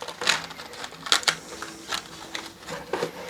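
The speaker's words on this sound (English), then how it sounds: "Let me just give these a quick shuffle." Quick shuffle of a deck of cards: a series of short riffling bursts and soft taps, close and fairly loud, with no talking.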